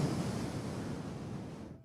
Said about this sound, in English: This is my normal breath.